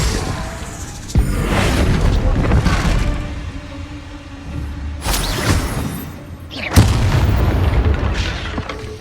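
Bombarda blasting spell detonating in the video game Hogwarts Legacy, a loud booming explosion with a sharp onset, followed by further heavy blasts a few seconds apart over continuous rumbling combat noise.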